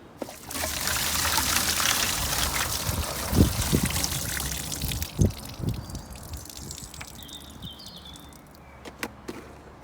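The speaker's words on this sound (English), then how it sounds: "I'm going to empty the cleaning solution at the disposal point" Cleaning solution from a Thetford toilet cassette pours into a disposal point outdoors at a campsite, a loud steady gush with splashing trickles that tapers into scattered drips and dribbles over about ten seconds, with no talking.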